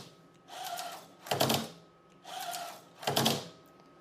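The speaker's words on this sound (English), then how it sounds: "let's take a look at the 1150 RPM motor with a high quality bearing on the dual strung system" A linear slide on high-quality bearings in a dual-strung system, driven by an 1150 RPM motor, makes repeated mechanical strokes. Each cycle pairs a softer whirring pass with a louder clattering burst, and the pattern repeats twice, close and clear.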